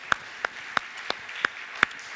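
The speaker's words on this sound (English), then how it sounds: "Round of applause to Bernard, the emotional support umbrella." Applause at a technology talk comes through as sparse, sharp claps, about seven, evenly spaced and close, with a quiet room hum beneath them.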